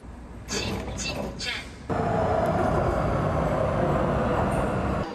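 A Taipei Metro train rumbles steadily at close range. A voice speaks briefly over a softer rolling sound at first, then the train's loud, continuous roar takes over for the rest.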